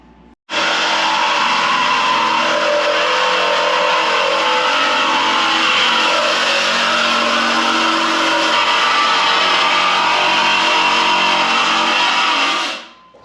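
A Chevy 350 V8 roars into a sustained high rev after a brief quiet start, holding loud and close for about twelve seconds before cutting off abruptly.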